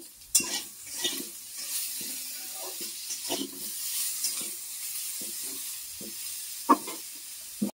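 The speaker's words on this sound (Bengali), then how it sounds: "এবার আমি গ্যাসটাকে একটু কমিয়ে দিয়ে বেগুনটাকে ভাজবো।" Eggplant seasoned with salt and turmeric fries over lowered gas, a soft sizzle under repeated scrapes and clinks of a spatula stirring against the pan.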